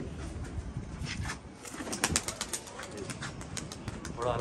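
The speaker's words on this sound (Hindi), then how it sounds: "बड़ा कबूतर है" Pigeons coo repeatedly in a rooftop loft among large, fit racing pigeons, with wing flaps and scattered chirps nearby, and faint voices in the background.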